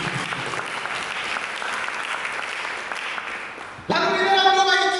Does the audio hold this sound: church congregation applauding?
yes